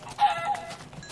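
A single chicken in Minecraft clucks and squawks in a short burst as it is shot, close and clear, with no talking.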